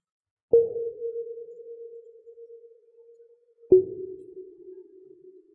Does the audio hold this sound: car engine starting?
no